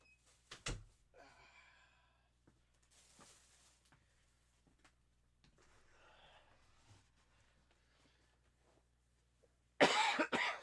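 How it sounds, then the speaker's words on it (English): A person coughs during a live miniature-painting stream: a single sharp cough near the start, then quiet shuffling and faint breaths, ending with a loud burst of coughing close to the microphone. "I don't mean to cough in everybody's ears tonight."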